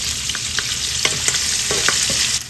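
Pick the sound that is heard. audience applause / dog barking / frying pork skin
frying pork skin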